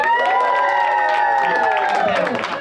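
A comedy club audience at a New York comedy competition cheers and whoops loudly for a contestant, a dense burst of crowd noise with scattered shouts and some clapping, close and sustained for a couple of seconds.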